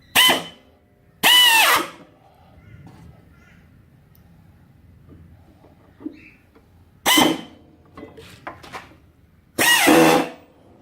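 A power drill whirs into hard, resinous wood in four short, loud bursts while building a native bee box, separated by quieter pauses with faint handling noises.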